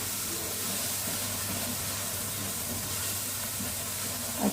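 Tomato paste sautéing in a pan for a chicken kofta curry, giving a steady, continuous hiss and sizzle at moderate level with a faint low hum underneath and no talking.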